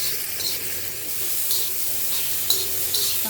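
Rock salt roasting in a hot pan, heard as a steady close dry hiss with a few light scraping stirs and small crackles, alone without speech.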